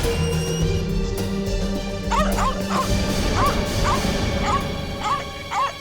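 A dog gives a run of high yips and barks, about six in quick succession, loud and close over a steady background drone, without any talking.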